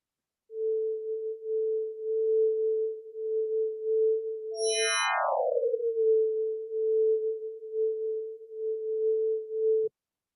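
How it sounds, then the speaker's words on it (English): A sonified idealized star flare: a steady pure tone holds, then jumps suddenly to a high pitch and glides back down in a slow decaying sweep before settling into the same steady tone, which cuts off abruptly. "an idealized example of what a flare sounds like"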